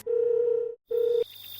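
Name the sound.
telephone dial tone of a phone call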